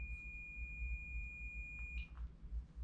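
A single long, steady high-pitched electronic beep sounds in a quiet room, then stops abruptly.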